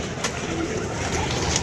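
Pigeons settled after a flight in a loft, giving soft, low cooing that carries steadily through a short, fairly loud stretch with no talk over it.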